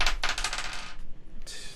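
Several dice tossed during a Superscape tabletop game, a quick bright clatter of dice tumbling and settling on a hard surface, close and alone, with a final rattle after a short pause.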